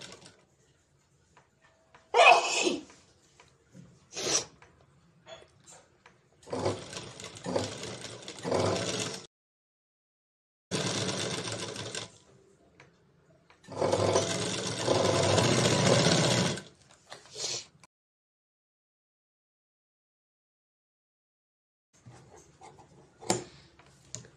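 A sewing machine stitches a blouse with aari-work design, running in several loud bursts of rapid mechanical whirring of a second or more each, with quiet pauses between runs.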